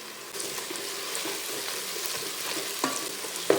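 Green chillies and curry leaves sizzle in hot oil in a pan as they are stirred, an even crackling hiss with a few soft scrapes and a sharp clink near the end.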